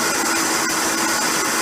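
A Vitamix blender runs on high while blending a green smoothie, giving a loud, steady, dense whirring roar with no talk over it.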